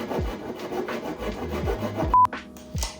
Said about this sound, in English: And that is because I'm using oak wood. I just need to trim it up a little bit.